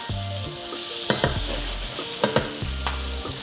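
Mushrooms cook in butter in a pan with a steady sizzle, while a utensil stirs and scrapes through them in several distinct clattering strokes, close and fairly loud.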